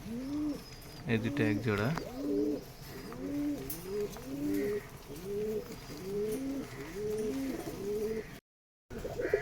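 Rajshahi Giribaz and Pakistani breed pigeons coo close by in a steady series of rising and falling calls. Someone speaks briefly over them near the start, and the sound cuts out for a moment near the end.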